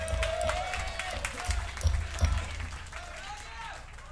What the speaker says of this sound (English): Round of applause to yourselves.